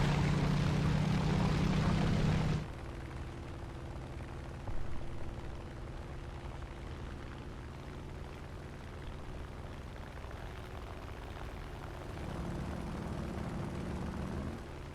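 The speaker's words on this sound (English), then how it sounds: "I thought I heard a plane behind me." A propeller airplane drones steadily behind the player in a flight video game, a constant engine hum that swells and fades slightly, after a louder opening burst of game sound.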